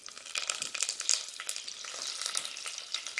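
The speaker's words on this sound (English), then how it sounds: "So we're going to add 2 slices of onion" Onion slices sizzle and crackle steadily in hot oil in a pan, a dense continuous frying hiss with small pops throughout, close and fairly quiet, no voices.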